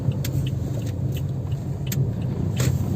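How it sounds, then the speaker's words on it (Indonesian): An ex-Bluebird Toyota Vios limo taxi is test driven slowly around a depot yard, its engine and tyre rumble steady and close, with light rattles and clicks from the cabin. "Nah, ini kita lagi test drive."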